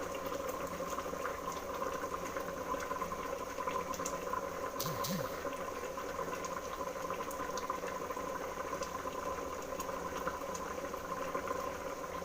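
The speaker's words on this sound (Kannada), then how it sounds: "ಚೆನ್ನಾಗಿ ಕುದೀತಾ ಇದೆ." Fish curry simmers at a steady bubbling boil in a pot, a close, continuous soft gurgle that holds evenly throughout.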